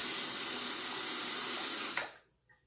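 Tap water runs steadily into a bathroom sink to wet a shaving razor, a close, loud splashing stream that cuts off near the end, leaving a faint clink.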